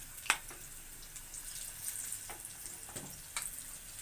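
Pakoras frying in oil over medium heat, a soft steady sizzle with a few sharp crackles and pops, close up and with no voices.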